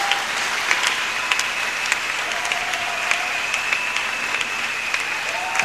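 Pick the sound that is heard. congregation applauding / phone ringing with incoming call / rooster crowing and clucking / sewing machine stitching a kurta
congregation applauding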